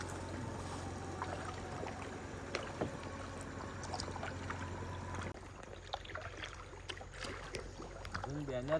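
Kayak paddling on the Khavane river backwaters among mangroves in Konkan, with soft water splashes and trickles from the paddles alongside faint background voices and a low steady hum.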